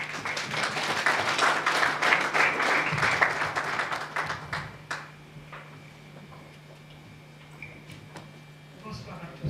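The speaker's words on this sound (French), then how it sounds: "Et je vous prie d'applaudir très fort pour elle." Audience applause at an evening award ceremony, a dense burst of clapping that fills the first five seconds, then thins into scattered claps over a steady low hum.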